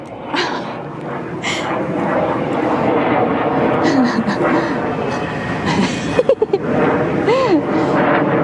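A slow-flying airplane passes overhead as a loud, steady drone with rising and falling tones, while people talk over it.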